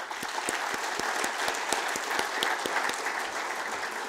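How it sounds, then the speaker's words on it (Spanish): Warm applause from a conference audience sending off the speakers, many hands clapping steadily with a few sharper individual claps standing out, sustained throughout at moderate level. "Vamos a despediros con un cariñoso aplauso."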